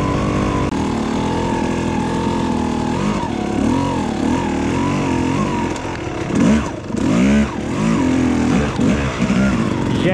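Enduro motorcycle engine revving hard in a cold winter outdoor setting, a loud continuous drone with rising and falling throttle swells, close by, while a person shouts encouragement over it.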